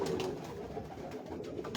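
Pigeons coo softly on a rooftop in Lahore, a few low, throaty rolling calls close by over a faint background hum.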